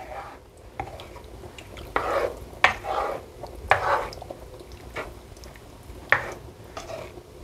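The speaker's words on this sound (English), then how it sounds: "we're just going to stir that up. Get it nice and mixed." A spoon stirs creamy roasted butternut squash pasta sauce in a pan, making intermittent soft scrapes and wet clinks at close range with no talking.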